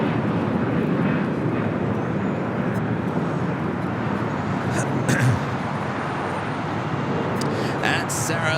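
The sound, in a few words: Spirit Airlines Airbus A320 arriving from Philadelphia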